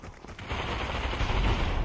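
M60 machine gun fire in a video game match, a dense rapid burst of gunshots continuing for the whole stretch, loud and close over game ambience.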